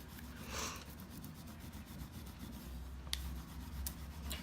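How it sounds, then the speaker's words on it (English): A thin wooden stick is rubbed firmly over a paper furniture transfer, giving a steady, soft scratchy friction close up, with a few faint ticks and no voices. "you basically just take it and rub it on"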